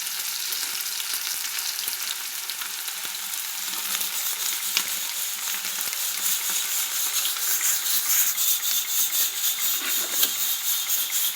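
Green chillies and onion frying in oil, a bright, steady hiss of sizzling with scattered crackles and light stirring scrapes, close and unbroken, growing slightly busier toward the end.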